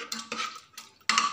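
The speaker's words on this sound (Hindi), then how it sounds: "अब मिक्सचर को हम अच्छे से हिला लेंगे" Dal mixture seasoned with salt and turmeric being stirred in a pan, giving close scraping and clinking bursts of a spoon against metal, three separate rounds with short pauses between them.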